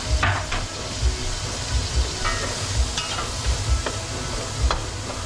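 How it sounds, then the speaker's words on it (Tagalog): Garlic and onion sauté in Star margarine, a steady close sizzle broken by the scrape and clack of stirring at an irregular rhythm. "ay aking ginigisa na, my friends and friendship, ang bawang at sibuyas sa star margarine"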